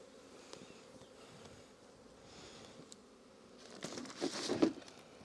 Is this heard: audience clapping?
no